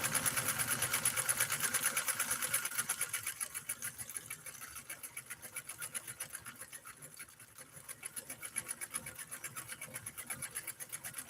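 A vintage Nordic-Husqvarna Automatic sewing machine stitches continuously with a fast, even mechanical chatter, running steadily close by throughout with slight shifts in speed.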